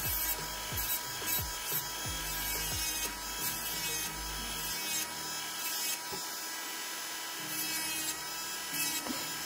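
An electric nail drill with a bit cleans under fingernails, giving a faint high whine with intermittent scraping and filing sounds and shifting pitch as pressure changes.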